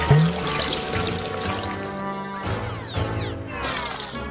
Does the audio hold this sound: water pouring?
yes